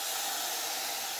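Oat milk sizzles in a hot pan while the flame is off, producing a continuous, even, airy hiss with no pauses and no voices.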